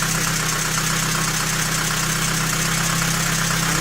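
ZMZ 405 engine idling with hydraulic lifters knocking, a steady close mechanical drone carrying a continuous fast ticking chatter, with no voices.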